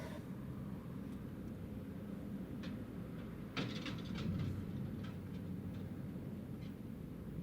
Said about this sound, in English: Ryanair's going around.